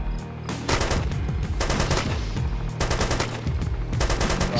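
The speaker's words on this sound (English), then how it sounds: "Firing over top of you, Smith." Gunfire in a military video game, with dense automatic bursts and repeated shots rolling almost without pause, loud and close, and no talking during it.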